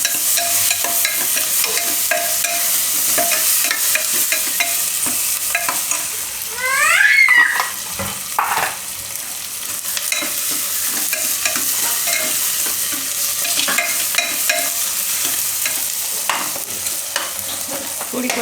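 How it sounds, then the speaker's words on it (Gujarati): A corn and potato curry sizzles loudly and steadily in a pan while tomatoes are tipped in and stirred, with a brief louder swell of spoon scraping partway through. "હવે આમાં આપણે ટમેટાં નાખી દઈશું."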